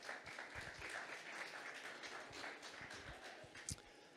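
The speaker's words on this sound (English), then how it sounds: "A round of applause." Quiet applause rises from a meetup audience as panelists are called on stage, a soft continuous patter of many hands heard from a distance.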